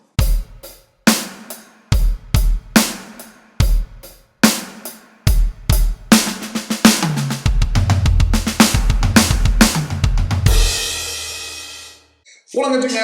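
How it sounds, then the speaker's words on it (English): Six-stroke roll fill in sextuplets on a drum kit: a groove of distinct hits leads into a rapid, dense roll across the drums, capped by a bright crashing cymbal that rings out before fading. "Another idea, we could play the 6-stroke roll."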